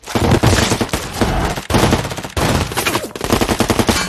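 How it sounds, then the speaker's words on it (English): Loud, rapid bursts of automatic gunfire in several long volleys, separated by brief pauses, close and harsh. "The brutal exchange of gunfire continued"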